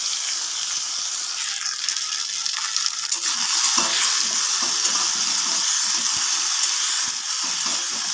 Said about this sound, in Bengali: মশলাটা কিন্তু বেশিক্ষণ ভাজবো না, 1 মিনিটের মতো ভেজে নেব।